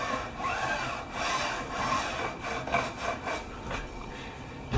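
A metal file rasps along the fret ends on the side of a guitar neck to smooth the bevels, giving repeated scraping back-and-forth strokes, close and moderately loud, without any talking.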